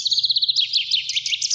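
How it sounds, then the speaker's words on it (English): A recorded bird chirp: a rapid run of high, bright tweets followed by a looser, warbling phrase, short, clear and close, with a faint low hum underneath. "can you tell what bird this is just from this chirp?"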